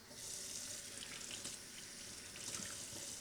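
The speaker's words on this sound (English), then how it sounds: "So now we are rinsing off the bell peppers" Tap water running steadily as bell peppers are rinsed in a kitchen sink, a continuous close hiss and splash with slight shifts as the stream hits the vegetables.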